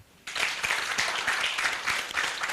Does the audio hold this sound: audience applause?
yes